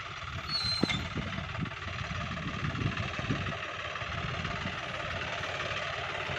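A John Deere 5065E tractor fitted with a seven-disc plough runs with a steady low engine drone and a faint knocking vibration, heard at a moderate distance and fairly quiet.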